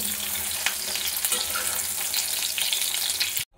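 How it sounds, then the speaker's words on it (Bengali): Cauliflower pieces fry in a pan, a loud, continuous close-up sizzle with light crackles and occasional stirring that stops abruptly near the end. "ফুলকপিগুলো ভালোভাবে ভেজে নেব।"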